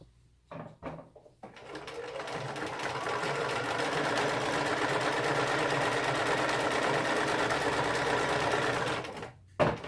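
A sewing machine runs a wider stitch through fabric in one steady, continuous whir lasting about eight seconds, with a few brief clicks and handling noises before and after and no talking over it.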